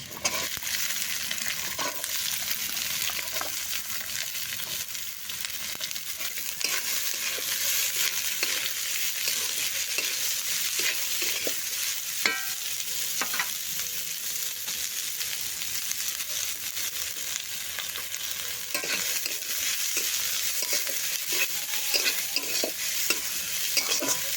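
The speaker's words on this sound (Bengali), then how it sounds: "রসুনটা ভাজা ভাজা হয়ে এসছে দিয়ে দেবো পেঁয়াজ" Sliced onion sizzles in oil in a wok while a spatula stirs it, a continuous close frying hiss broken by regular scraping strokes and light knocks against the pan.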